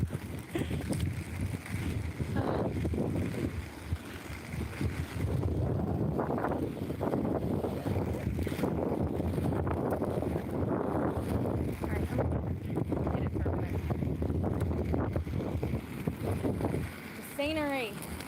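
Strong wind buffeting the microphone outdoors, a constant loud rumbling roar throughout, with a person talking underneath.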